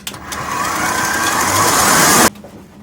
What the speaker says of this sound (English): you want to let the mixer run for about 3 or 4 minutes till it starts to cool